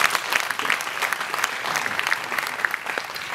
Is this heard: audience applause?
yes